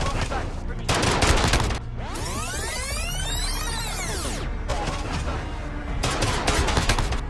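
Gunfire in the video game Call of Duty: Warzone, with dense bursts of automatic shots in separate clusters and a sweeping whistling tone in the middle, fairly loud and continuous.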